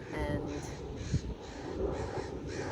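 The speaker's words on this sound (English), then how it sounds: "crows," Crows cawing in repeated calls at moderate distance, mixed into a busy outdoor background with some faint voices.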